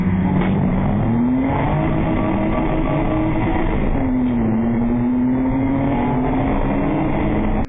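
Race cars pulling away at the start of a race at Brands Hatch, a loud continuous roar of several engines rising in pitch as they accelerate, heard up close.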